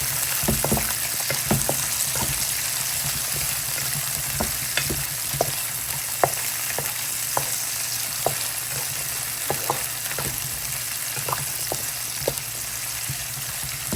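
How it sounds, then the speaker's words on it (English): Onions, spices and annatto sizzle steadily in oil in a pot for a Guyanese curry, with a continuous frying hiss broken by repeated scraping clicks as the mixture is stirred. "So I want to toast everything up, including the onions with the annatto"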